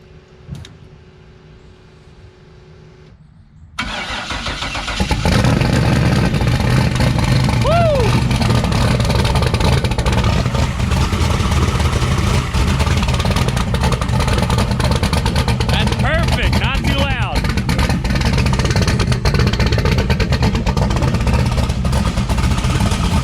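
A turbocharged LS V8 in a Ford Fox-body starts after a few seconds of quiet, then settles into a loud, steady running drone close by while people talk over it.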